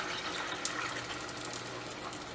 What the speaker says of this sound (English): so I'll fill up with a bit more water.